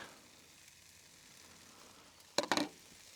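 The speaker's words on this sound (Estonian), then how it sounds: "paneme juba siia porgandi ka peale ja porgandi praeme läbi" Carrots frying in oil in a reused pan, a low steady sizzle with a brief burst of louder scraping or stirring near the end.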